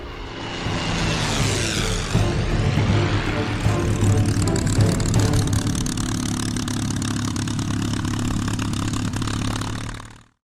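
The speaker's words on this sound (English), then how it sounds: "It's a great thrill to fly the airplane" A P-51 Mustang propeller fighter runs with a steady, loud engine drone that holds evenly for about ten seconds before cutting off abruptly at the end.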